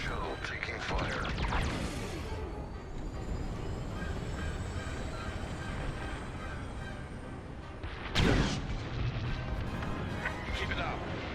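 Blaster fire strikes a shuttle in the Star Wars Squadrons video game, heard as a steady, heavy rumbling barrage with one sharp impact burst near the end, while a voice speaks over the din.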